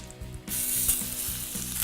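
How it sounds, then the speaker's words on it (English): Salmon fillets with olive oil hit a hot pan and start a loud, close sizzle. The crackling hiss jumps in abruptly after a quiet start and continues steadily. "We want to be able to hear that sear, that sizzle and crackle."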